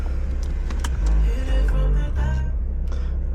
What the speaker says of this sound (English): we're gonna do windows down and sunroof